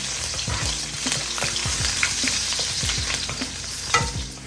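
Garlic sizzling in oil in a large wok, with a steady frying crackle broken by repeated sharp scrapes and clinks of a utensil stirring close by, no voices.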